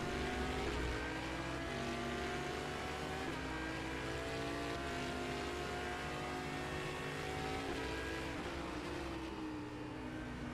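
Audi GT3 race car engines roar in the rFactor 2 sim racing game at the Imola circuit, a loud, continuous drone whose pitch climbs and falls through gear changes with no pauses.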